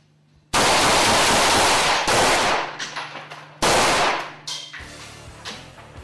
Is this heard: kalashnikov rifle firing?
yes